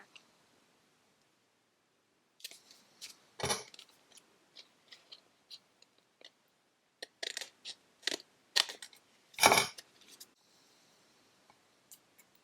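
Scissors snip through paper for a handmade Christmas critter card, with scattered crisp cuts in short bursts and a couple of louder close snips amid quiet pauses.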